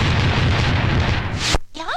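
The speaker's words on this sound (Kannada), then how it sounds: "ಬ್ಲಾಸ್ಟ್" A hotel blast set off by terrorists in a Kannada film: a loud, rumbling explosion roars for about a second and a half, then cuts off abruptly, followed by a brief voice.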